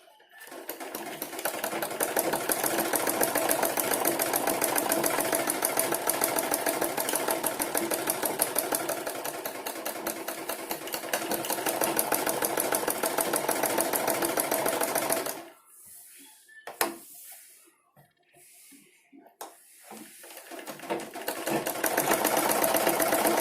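An electric sewing machine stitches a blouse with a loud, continuous rapid whirring clatter for about fifteen seconds. It then stops and goes quiet apart from a few faint knocks, and revs back up at the end.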